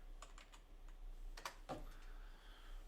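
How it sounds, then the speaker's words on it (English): Someone types on a computer keyboard with scattered, faint key clicks in short bursts. The taps sound close but quiet over a low steady hum. "I'm fat fingering the keyboard today."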